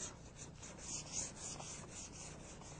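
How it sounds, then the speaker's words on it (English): Fine 400 grit sandpaper rubs over primer in quick, even back-and-forth strokes, a soft, steady rasping heard close up with no voices. "We're going to be sanding with 400 grit sandpaper to feather edge into the original paint here"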